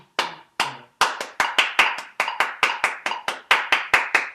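Hands clap a steady 4/4 beat in a quick, even run of about twenty sharp claps, close and loud, with no other sound between them.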